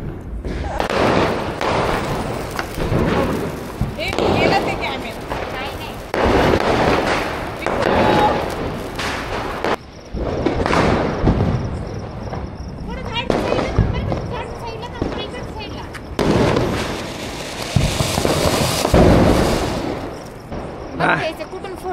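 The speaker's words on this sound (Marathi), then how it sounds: "फटाके फोडता येतील" Diwali fireworks and firecrackers burst over and over, loud and close, in sharp cracks and rumbling booms, while people talk throughout.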